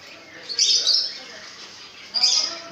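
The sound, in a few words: birds chirping at a bird market in Shubra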